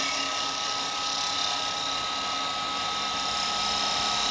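A wood lathe spins steadily while a chisel rolls beads on a turned wooden pendant, giving a continuous loud whine with a bright, hissing cutting tone and no talking over it.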